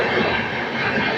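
A train hauled by a P5 locomotive passes close on the tracks, making a dense, steady rumble with faint wheel clatter in a brief stretch.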